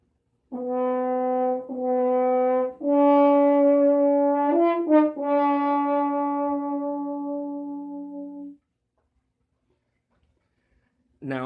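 Brass horn played with a dark, mellow tone in a slow melodic line of held notes, loud and close, ending in silence before a brief sound at the very end.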